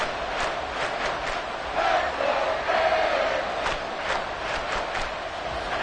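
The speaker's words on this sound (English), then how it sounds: "The crowd getting into it as we come up on a big 3rd down" Football stadium crowd roaring steadily ahead of a big third-down play in a Miami Dolphins game, a dense, loud wash of cheering voices that swells in the middle and stays sustained throughout.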